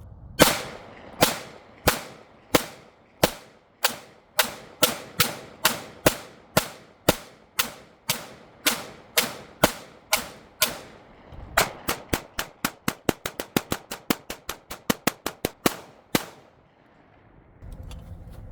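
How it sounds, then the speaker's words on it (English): Rapid gunshots ring out at a TCRT target, a steady string of sharp, loud reports about every half second that then speeds into a fast burst of quick shots before stopping. "We're gonna shoot the heck out of this TCRT target"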